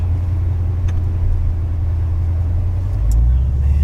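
A Chevrolet Corvette C7 Z06 engine rumbles steadily at low revs as the car pulls out onto a race track, swelling slightly louder near the end, with no talk over it.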